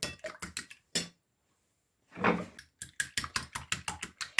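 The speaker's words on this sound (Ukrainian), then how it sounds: "присолюю це яйце і просто так перемішую" A fork or whisk clicks rapidly against a bowl while beating a salted egg, quick rhythmic taps in bursts with a short pause, close and fairly soft.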